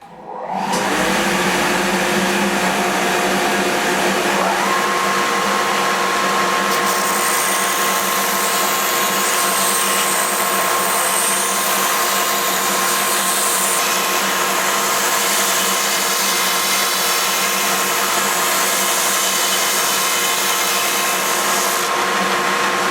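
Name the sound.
belt sander pointing the end of a 1x2 wood piece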